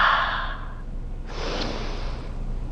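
Two long breathy exhales come from a person doing a reformer Pilates exercise, close and soft, the first stronger and the second after a short pause, with no talking.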